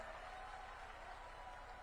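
An audience at a youth mahapanchayat gathering applauds the chief minister, a faint, steady wash of clapping from a large crowd heard from a distance.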